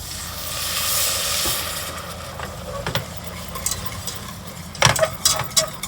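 A whisk scrapes and taps in a pan as milk is worked into a paste for bechamel sauce, with a soft hiss underneath and a few sharper clinks toward the end.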